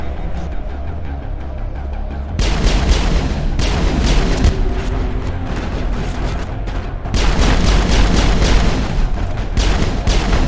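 Grenade explosions in the Mass Effect 1 video game, a dense run of loud booming blasts and crackling gunfire layered into sustained combat noise, swelling at intervals, with no voices.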